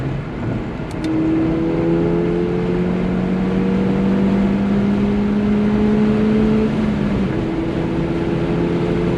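A tuned Ford Fiesta ST running E30 fuel revs up loudly nearby, pitch climbing steadily, then drops briefly as it shifts from third into fourth and climbs again.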